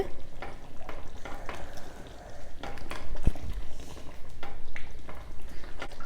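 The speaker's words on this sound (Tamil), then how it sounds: "குருமா நல்லா கொதித்து வந்துருச்சு, ஆயில் எல்லாம் பிரிஞ்சிருச்சு." Kurma curry bubbling steadily in a pot after five minutes of boiling, its oil separated on top, with soft crackling and occasional stirring clinks throughout.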